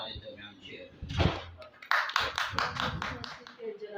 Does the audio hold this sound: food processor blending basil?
no